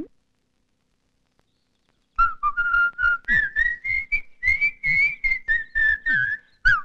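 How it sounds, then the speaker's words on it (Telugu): A man whistles a lively, warbling tune in a series of short, bright notes after about two seconds of silence, loud and close, with no talking. "ఆ విజిల్ ఎందుకు వేస్తున్నారో చెప్తే మేము కూడా జాయిన్ అవుతాం"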